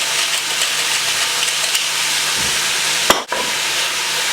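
Red meat browning in a pan, a steady broad sizzle throughout with a few faint stirring scrapes and a sharp clack near the end, close and uninterrupted by talk.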